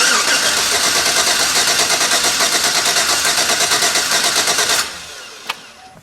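A car engine cranks over on the starter during a compression test with the throttle held open, a steady rhythmic churning drone for about five seconds before stopping abruptly, followed by a single faint click.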